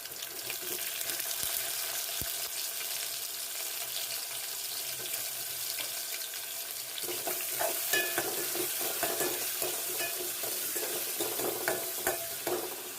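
Onions fry in a pan with a constant soft sizzle, joined midway by louder irregular clinks and scrapes of stirring; no voices are heard.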